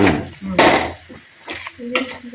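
Whole spices roasting in a hot pan for a bitter gourd kuzhambu, stirred with a utensil in a few scraping, sizzling bursts at close range.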